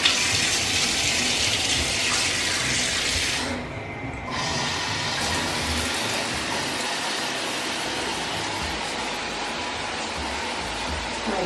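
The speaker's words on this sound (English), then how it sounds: "So I'm about to hop in the shower." A shower runs steadily in a home bathroom with a continuous, close broadband hiss of spraying water that dips briefly and then carries on evenly, with no talking.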